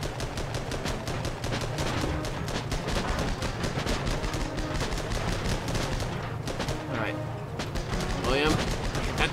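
Gunfire from a tank crew in the video game Armored Battle Crew, heard as a rapid, steady stream of sharp, repeated shots that continues throughout at moderate loudness, with a few louder bursts near the end.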